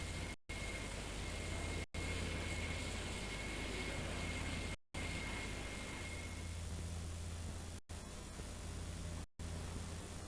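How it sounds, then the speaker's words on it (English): A hot air jet welds plastic material, producing a steady broadband hiss and rushing blow of air, faint and constant, with a thin high whine at times and several brief cuts to silence. "Here we're welding a plastics material. Because this material melts at a much lower temperature, the heat source can be a jet of hot air."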